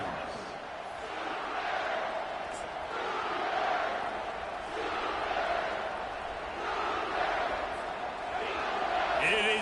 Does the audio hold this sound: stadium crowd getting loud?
yes